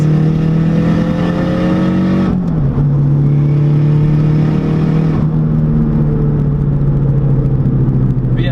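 A big-turbo Saab 9-3 Viggen engine drones loud and steady from close range under hard acceleration with wheelspin, the pitch holding high, dipping at a gear change, then continuing to pull.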